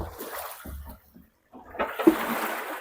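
Water poured into a dirty drum for rinsing inside a house, a short rushing splash that breaks off briefly and then returns louder and fuller, with no speech.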